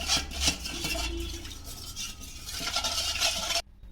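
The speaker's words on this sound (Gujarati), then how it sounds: "1 ચમચી સંચર પાવડર, 1 ચમચી હળદર પાવડર। હવે આ બંને વસ્તુ મિક્સ કરી લઈશું।" A spoon stirs black salt powder and turmeric powder with about four spoons of water in a small bowl: soft scraping and rubbing strokes, close and quiet, continuous for a few seconds before stopping abruptly.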